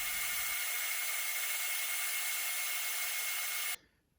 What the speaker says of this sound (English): So back to the bandsaw to do a little more cutting.